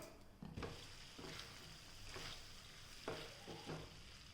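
Tender bamboo shoots fry in a pan with a steady soft sizzle, broken by several distinct scraping stirs of a spatula at intervals, heard close and fairly quiet with no talking.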